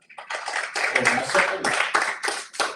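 A church youth congregation claps in bursts, rhythmic handclaps rising and falling in several quick waves, fairly close and lively.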